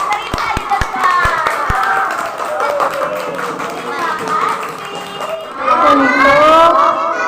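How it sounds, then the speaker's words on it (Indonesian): A classroom of second-grade children claps hands in a quick burst of sharp, close claps that soon give way to children's chatter and a teacher speaking. "Beri tepuk tangan dulu untuk temannya yang berani bercerita di depan."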